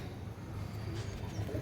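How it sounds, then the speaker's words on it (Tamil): Pigeons coo low and soft during pigeon flight training, a few murmuring calls under steady background noise with no voices. "புறா நல்லா சுற்றி வந்துட்டுருக்கு."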